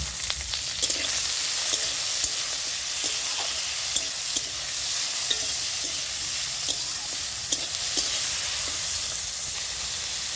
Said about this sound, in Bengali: এই উপকরণগুলো সব আমি হালকা করে ভেজে নেব।